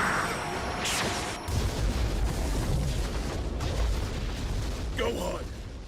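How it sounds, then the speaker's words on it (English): A Special Beam Cannon energy blast from a Dragon Ball video game: a sustained, booming rush of energy with a low rumbling roar and crackling bursts, partly under game voices. "Special beam cannon!"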